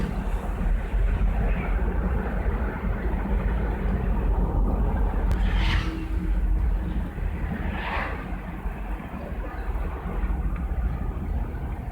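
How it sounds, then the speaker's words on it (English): A Toyota LandCruiser cruises on a highway, its interior filled with a steady low road-and-engine rumble, with two brief swells as gears change, and no talking. "We are now well and truly on the highway, and the vehicle is changing gears very well."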